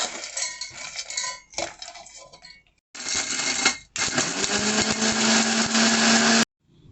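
A mixer grinder grinds fried edible gum (dink) for winter date laddoos in several loud bursts, stopping and restarting, the last run a long steady whirring grind that cuts off abruptly.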